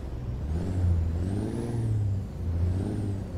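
A Kenworth W900A truck engine in American Truck Simulator idles with a deep, steady rumble, swelling in two gentle revs, heard alone at moderate level.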